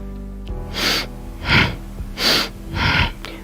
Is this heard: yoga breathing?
yes